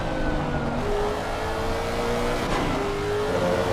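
Porsche race cars in Assetto Corsa Competizione at Valencia, engines droning and revving steadily with rising and falling pitch as cars chase each other, a continuous mid-level roar with no voices.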